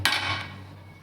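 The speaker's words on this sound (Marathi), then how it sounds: "तर आता कुकरमध्ये टाकून घेते मी." Washed soybeans and chana dal are tipped into a metal pressure cooker with a single sharp clattering impact that quickly rings down to quiet.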